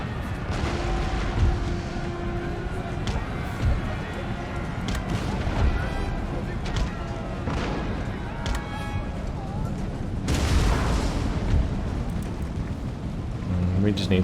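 Cannons boom through a large Empire: Total War battle as British forces fight, with dull thuds and rumbling blasts spread over a continuous roar of battle noise, while someone talks over it.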